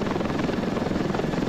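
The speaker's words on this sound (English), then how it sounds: "Get in the chopper." Helicopter rotor in the military sandbox game Ravenfield, a loud, close, steady thumping chop with a dense engine whine, continuous throughout with no speech.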